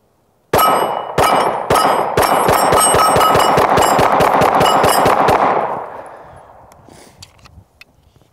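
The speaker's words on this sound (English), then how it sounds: "That's a fun gun to rapid fire. I'm gonna do that again." An Arex Delta L Gen 2 pistol fires a rapid string of about a dozen loud, sharp gunshots at close range, each crack closely following the last. A ringing echo then fades away into quiet.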